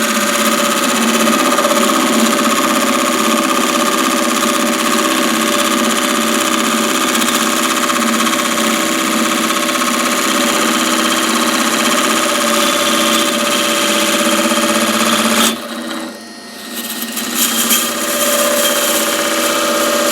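A square carbide-tip tool shaves the corners off a spinning wooden blank on a lathe, a loud continuous whirring hum of motor and cutting that briefly cuts out near the end before resuming.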